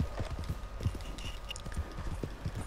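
Horse hooves gallop across ground in Red Dead Redemption 2, a quick, uneven run of soft clip-clop thuds at moderate distance, fairly quiet and steady throughout.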